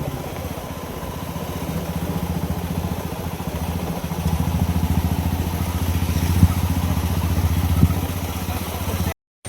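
A motorcycle engine runs steadily while riding toward a Durga temple, a close, continuous low chugging rumble that swells slightly in the middle and then cuts off abruptly at the end.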